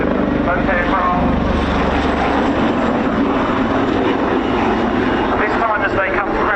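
Aircraft performing a display at a live air show, likely helicopters among the participants, with a loud continuous engine roar throughout while a commentator talks over it.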